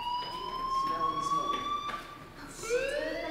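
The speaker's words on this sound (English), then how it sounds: "Hey, do you hear that fire alarm?" A school fire alarm in the game Life Is Strange sounds as a steady, ringing electronic tone with bright overtones and a rising pitch near the end, while voices talk over it.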